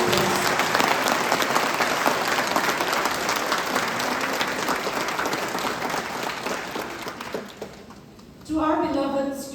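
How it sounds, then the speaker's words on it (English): Crowd applause rings out at a college commencement ceremony, dense and loud at first and slowly tapering off before a voice takes over near the end. "Let's give them a huge round of applause."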